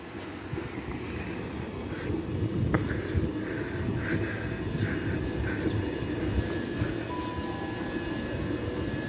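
Class 375 electric units 375701 and 375827 run into Platform 2 at Deal station with a continuous loud rumble of wheels and motors, plus faint high squeals and tonal whines above it.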